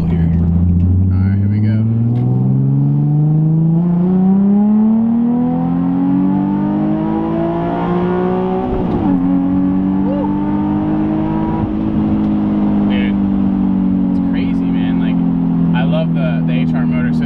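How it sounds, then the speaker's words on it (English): A 2008 Nissan 350Z with the HR engine pulls hard in second gear, its loud, smooth engine tone climbing steadily for several seconds, dipping briefly, then holding a high, even drone. "Let's do a little second gear pull here."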